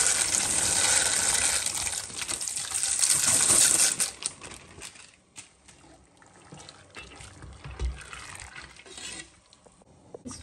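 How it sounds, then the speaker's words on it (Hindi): Dry macaroni pasta tipped into a pot of boiling water, a brief rattling, clinking pour over bubbling for about four seconds, then quieter simmering with light stirring clinks. "पानी हमारा अब बॉईल हो चुका है, अब इसमें पास्ता डाल देते हैं।"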